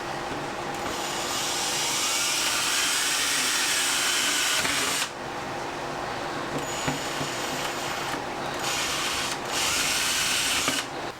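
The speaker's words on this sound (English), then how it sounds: "I'm gonna drill a little hole in here, get that stuff out." A power drill bores a hole through a Mario-themed lamp, whirring loudly up close in a long run, then stopping and restarting in shorter bursts with brief pauses between them.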